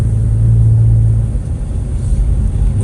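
A 2016+ Infiniti Q50 fitted with a SkrillaGorilla blow-off valve kit runs loud and close, its engine droning with a steady low rumble and a brief rising hum as the turbo spools.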